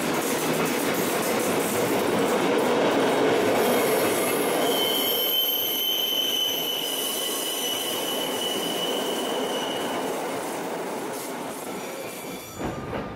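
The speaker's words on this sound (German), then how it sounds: "Langsam passiert der Pendelzug nach Pontresina die Brückenbaustelle über den Inn" A Rhaetian Railway shuttle train to Pontresina pulls slowly across a bridge construction site over the Inn, its wheels squealing loudly and steadily for about ten seconds with a rolling rumble underneath, then fading as it moves off.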